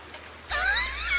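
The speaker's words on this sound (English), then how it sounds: "You go out here, the rain falls on you." Rain in the farming game Farming Simulator 19 starts abruptly as a steady, close hiss when the player steps outside, with faint wavering tones running over it, and no one talks.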